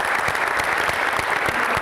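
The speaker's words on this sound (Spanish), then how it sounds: "Un aplauso para todos." Audience applause closing a Spanish-language talk on teaching sports games: a short burst of dense, even clapping from a room of people, loud and close throughout.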